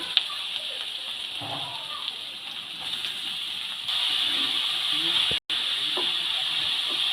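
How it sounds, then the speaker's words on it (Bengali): Grated cauliflower and ginger sizzle in hot oil for a cauliflower paratha filling, a steady loud hiss that swells partway through, with a brief dropout near the end. "এবার তেলের ওপর গ্রেট করা ফুলকপিগুলো দিয়ে দেবো"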